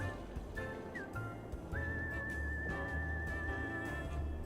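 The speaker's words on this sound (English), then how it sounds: "The whistles are back. They are back." Whistling in the city-building game Cities: Skylines: a clear, fairly faint melodic whistle with a few short notes, then one long warbling, wavering tone over a low game background, with no speech.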